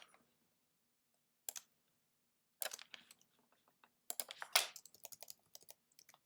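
Arrow keys on a computer keyboard are tapped in short bursts, sharp close clicks arriving in irregular clusters with quiet gaps between, in a quiet room with no talking.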